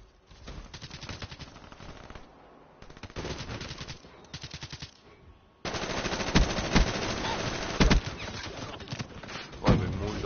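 Rapid automatic gunfire from a video game firefight, coming in short bursts separated by brief pauses, then a louder, nearly continuous stretch of shooting with a few heavier close shots standing out.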